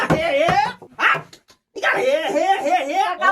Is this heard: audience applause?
no